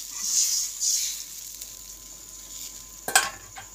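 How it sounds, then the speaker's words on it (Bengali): Curry broth for a bhola fish jhaal is poured onto fried onions in a pan, producing a bright, crackling sizzle that swells in waves and flares sharply near the end, with no talking. "আমার পেঁয়াজটা ভাজা হয়ে গেছে, এবার আমি দিয়ে দিচ্ছি ঝোলটা।"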